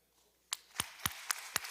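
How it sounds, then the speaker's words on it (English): A few slow, sparse claps ring out on a legislative house floor as members applaud honored guests, five sharp separate hand claps rather than a full ovation, close and fairly quiet. "Would you please give them a round of applause?"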